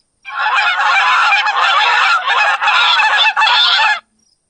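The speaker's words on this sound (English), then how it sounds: "goose." A goose honks loudly and continuously for several seconds, harsh and close, with no other sounds around it.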